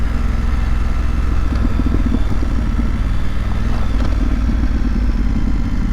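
A 2025 BMW F900GS motorcycle ridden on a mountain road, its engine droning loud and steady throughout with wind buffeting and faint clatter, no talk.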